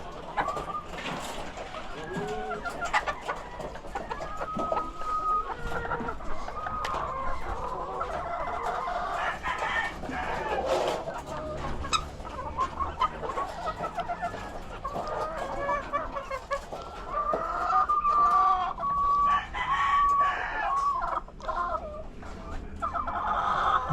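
Backyard chickens cluck and squawk nearby with an occasional rooster crow, busy and continuous over about twenty-four seconds, while a person talks intermittently among the birds.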